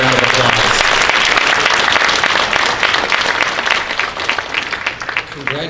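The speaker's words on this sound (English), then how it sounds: "let's give all of our mentors and mentees a little round of applause." Dense round of audience applause at a leadership conference mentorship graduation, loud and sustained throughout with steady clapping that thins slightly near the end as a voice begins.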